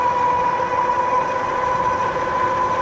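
A Troxus LynxPlus electric bike motor ramping up in cadence mode gives a steady whine with a sustained high tone, holding level and continuous throughout, fairly close and loud.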